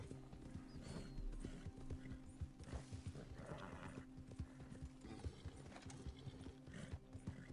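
In a video game, a horse's hooves clip-clop in a quick galloping rhythm with a whinny, all faint and quiet over a low background.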